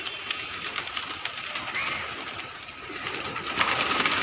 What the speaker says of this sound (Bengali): আর সকাল সকাল পায়রা খালি দেখে নাও।